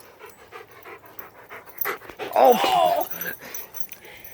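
Two dogs pant rapidly and whimper with a high whine during play, close and fairly loud, while a person speaks briefly nearby.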